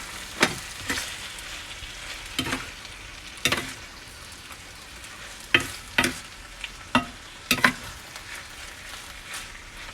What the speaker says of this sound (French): Et remuer.